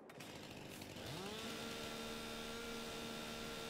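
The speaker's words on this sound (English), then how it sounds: "then cut them up with the chainsaw" A chainsaw in Farming Simulator 22 starts with a rough burst, then settles into a steady, droning engine whine that rises in pitch and holds for several seconds, heard alone without voices.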